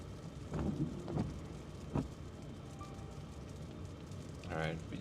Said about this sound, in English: this ice storm kind of came in with a vengeance